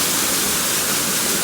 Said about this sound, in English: Right outside of Frozen, in front of this waterfall,